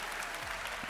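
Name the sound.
audience applause for a first-time cosplayer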